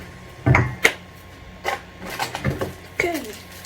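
A spatula works through thick chocolate chip cookie dough in a bowl, making soft, irregular scrapes and thuds that are close and fairly quiet.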